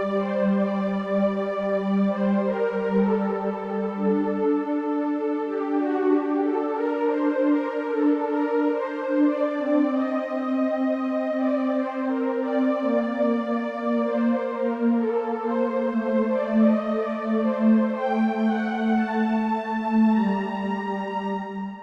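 Slow two-voice counterpoint on a keyboard: a sustained low cantus firmus holds long notes while an upper voice spins melismatic decorations above each one, steady and clear with no talking.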